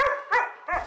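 A street dog on Zakynthos gives three short, high yipping barks in quick succession, close and clear, with brief gaps between them.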